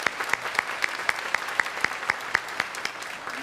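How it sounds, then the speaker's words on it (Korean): Steady, moderate applause from a church congregation, even clapping continuing throughout, heard at a slight distance in a large room. "잠깐 일어서시면 우리 박수로 환영하도록 하겠습니다"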